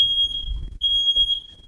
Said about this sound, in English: Shut up, timer!